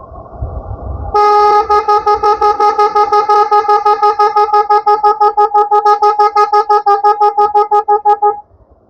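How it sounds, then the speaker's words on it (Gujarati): A loud, close car horn with a fault blares erratically in a rapid stuttering series of toots lasting several seconds, after a short low rumble. "હવે આડો ઓળો હોર્ન વાગે છે, તમે જોઈ લીધો ને."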